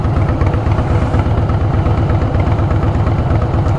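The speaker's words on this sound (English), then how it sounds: "Finding neutral on this bike is damn near impossible." A motorcycle engine idles loud and close with a steady, throbbing low rumble and constant vibration, running without a break and with no talking.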